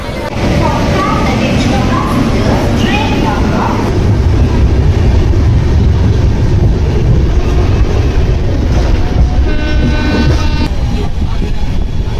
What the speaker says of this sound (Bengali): তো চলুন এই মুহূর্তে ট্রেনে ওঠা যাক